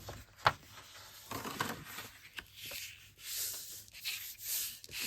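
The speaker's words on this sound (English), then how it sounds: "I'm going to gently burnish these score lines just with my fingertips." Fingertips burnishing score lines on card stock make soft, close dry rubbing strokes in short uneven bursts, with a light tap near the start and no talk.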